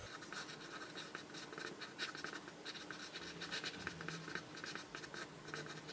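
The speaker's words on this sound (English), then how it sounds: "just trying to be quite fluid, not moving my pencil from the paper too much" A pencil moves fluidly across paper for a continuous stretch of soft scratchy strokes, close and quiet, with no talking over it.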